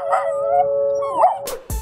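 A Miniature Schnauzer gives a drawn-out, howling whine with a couple of rising yips, close and fairly loud, ending in a couple of sharp bursts.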